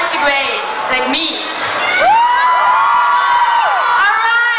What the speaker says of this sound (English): I hope you heard it amidst all your screams, okay?